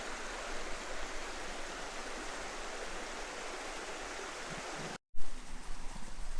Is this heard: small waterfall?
yes